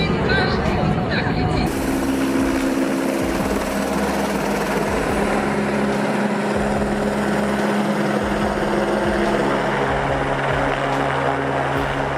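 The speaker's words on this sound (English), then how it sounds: "That's some heavy lifting. That helicopter must be a beast." A helicopter hauling a heavy load produces a loud, continuous rotor thump and turbine drone that stays steady and close throughout.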